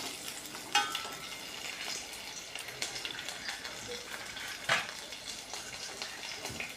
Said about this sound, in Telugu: తెల్లుల్లి కొంచెం వేగనిద్దాం